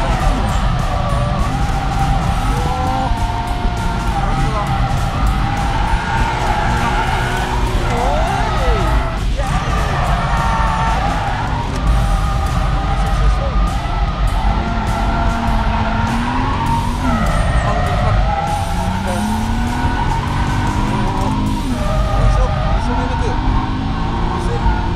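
A BMW M3 E46 coupe drifts with a continuous loud engine roar and repeated tire squeals rising and falling, while people talk and shout over it.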